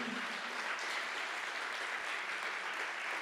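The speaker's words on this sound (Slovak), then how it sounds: "ja im dám ešte jeden potlesk" A conference audience at a live hackathon finale applauds, steady dense clapping filling the room throughout at a moderate, distant level.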